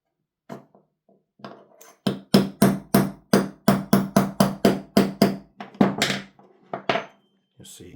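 A pin is hammered out of an MP9 airsoft gun block with a string of sharp, ringing metallic taps, a few tentative hits building into a rapid, steady series of close, loud strikes before tapering off.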